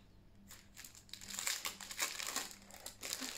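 Small plastic envelopes being handled up close, with soft crinkling and rustling that comes in several quick bursts, growing busier and a little louder partway through, and no voices.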